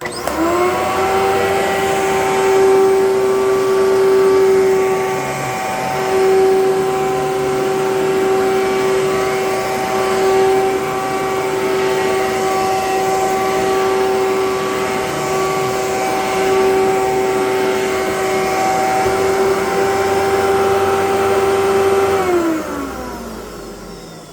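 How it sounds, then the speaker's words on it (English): An Amway Clear Trak cyclone vacuum cleaner, worn with a shot brush roll bearing, spins up and runs with a loud steady motor whine and airflow roar for over twenty seconds, then winds down at the end. "And without further ado, I will fire this thing up."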